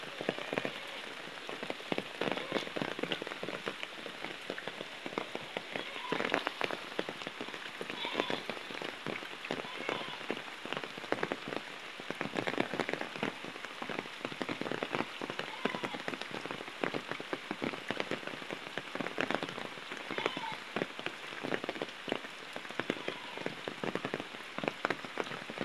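Heavy rain falls on the roads in Matlab, Chandpur, a dense, continuous patter and hiss on wet, slippery ground that holds steady throughout.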